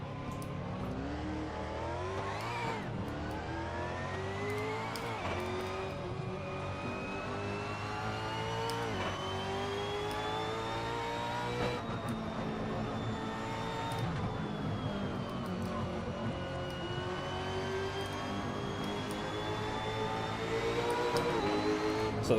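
2018 V8 Supercar driven in the Assetto Corsa racing game, its engine roaring and revving loudly for over twenty seconds, pitch sweeping up and down with repeated gear shifts and a louder push at the end, no speech.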